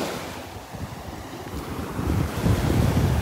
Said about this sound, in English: They are nice little waves this morning